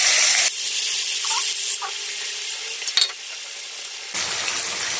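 Coated fish fries in a pan over a low flame, a bright sizzle that quiets in the middle, with a few soft clinks, then crackles strongly again at the end.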